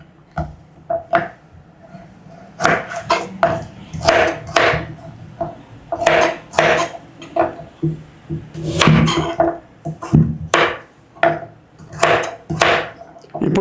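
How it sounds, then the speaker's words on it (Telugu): Rapid clicks and thuds of a knife chopping carrots on a cutting board for veg pulao, in uneven bursts of quick strokes with brief pauses, close up and moderately loud. "ఇప్పుడు క్యారెట్ని కూడా కట్ చేసుకుందాం."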